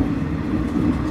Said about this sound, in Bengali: ট্রেন রাইট টাইমেই চলছে